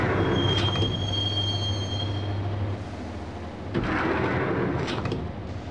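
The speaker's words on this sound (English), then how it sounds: "the train doors had already shut behind me, and I was in for the ride" A subway train rides along in the Max Payne video game, with a loud steady rumble of wheels on track and a brief high squeal early on. The noise dips midway, then swells again.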